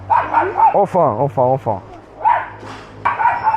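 Dogs on a beach in Haiti give a run of high, yelping barks and whiny yips, loud and close, with a person's voice mixed in among them.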